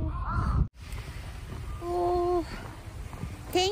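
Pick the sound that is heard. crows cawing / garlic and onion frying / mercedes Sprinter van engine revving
crows cawing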